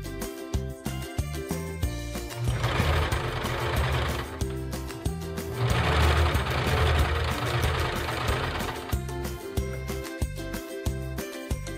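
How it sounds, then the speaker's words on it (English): A sewing machine runs a straight stitch along the edges of a cosplay tie, its motor whirring steadily in a long run, near and moderately loud, with no voices. "Sew the edges together using a standard straight stitch with as little seam allowance as possible"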